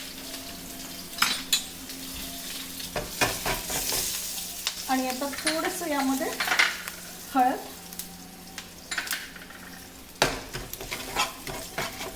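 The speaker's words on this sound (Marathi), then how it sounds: "आता याला असा छान आवाज आला पाहिजे, तर ही छान फोडणी बसली आपण समजायचं" A Marathi tempering of fenugreek seeds, curry leaves, green chili, asafoetida and turmeric sizzles in hot oil for raw mango amti, with a spoon scraping and clinking against the pan while someone talks.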